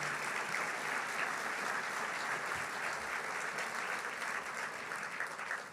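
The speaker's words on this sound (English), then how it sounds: "Let's give them a round of applause." An audience at a 50th anniversary gala claps in a steady, continuous round for the event staff. The clapping sounds fairly distant and soft and lasts close to six seconds.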